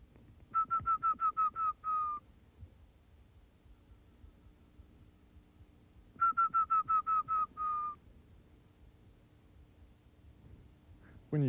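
Recorded owl calls played softly from a tape, two bursts of rapid repeated whistled hoots a few seconds apart, each ending in a longer note, over a quiet background.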